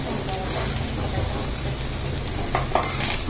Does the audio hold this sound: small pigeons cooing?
no